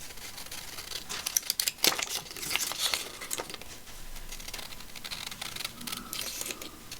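Scissors snip and crinkle through paper pictures being cut out for a collage, a quiet run of small irregular cuts and rustles with a few sharper snips near the start.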